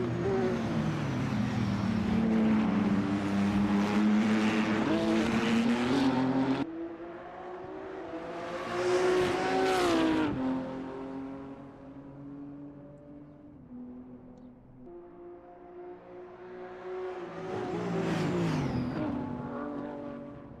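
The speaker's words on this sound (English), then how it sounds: "Zula driving the BMW very aggressively, trying to get closer to slowest fun" A BMW race car in a sim racing game is driven hard, its engine roaring loud through repeated upshifts and surges, with rising revs that cut off sharply and then build again.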